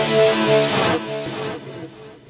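Electric guitar played through an effects unit with delay and chamber reverb, sustained chords ringing out with repeating echoes and a long washy tail that fades over a couple of seconds, heard alone.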